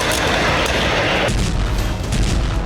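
Russian S-60 anti-aircraft gun firing shells at a position in a war zone, heavy booming blasts with a dense rumbling roar that sustains across the short stretch, loud and close.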